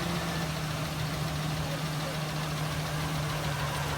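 A Chevrolet Silverado work truck with rod knock idles steadily after starting, a dense continuous engine rumble with a low hum running throughout, close and loud, with a faint voice mixed in.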